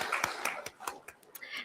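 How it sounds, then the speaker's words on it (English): A short spell of hand clapping, sharp distinct claps at an uneven rhythm, fairly close, with no talking. "A huge round of applause for Major Vishal Bakshi, please."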